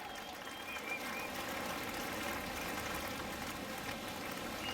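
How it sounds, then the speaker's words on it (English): A beach crowd at an Ironwoman surf race gives a steady, moderately distant round of applause for the third-place finisher, a continuous hiss of clapping lasting several seconds. "Big round of applause."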